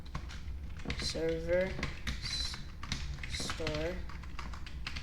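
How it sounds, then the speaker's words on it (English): Rapid clicking keystrokes on a computer keyboard rattle steadily under a voice as he talks through code in Roblox Studio. "my typing is awful"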